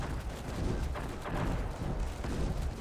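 HE shell explosions in the retro real-time strategy game Panzer Strike: a rolling barrage of booms and heavy thuds with no pauses, blended with rumbling battle noise.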